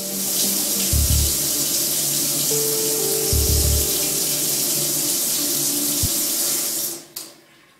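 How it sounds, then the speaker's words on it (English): Water pours steadily from a tap, a continuous rushing hiss with a few low clunks, ending abruptly as the flow stops near the end. "we might not have the luxury of clean, continuous water at the turn of a tap"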